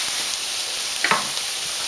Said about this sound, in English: we're just going to have our onions and garlic in there, frying away in some olive oil